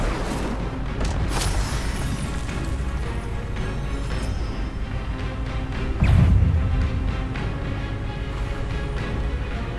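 An Incendio fire spell blast in the video game Hogwarts Legacy, a single loud booming burst rising out of a steady, dense battle ambience.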